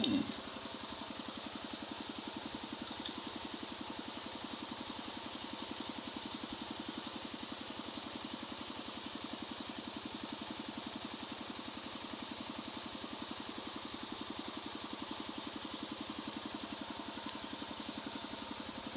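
A small engine-driven water pump chugs at a steady idle throughout, pumping water onto bamboo shoots outdoors, the motor's even rhythmic drone continuing unchanged from start to finish with no talking.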